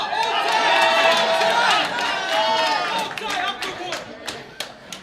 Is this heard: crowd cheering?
yes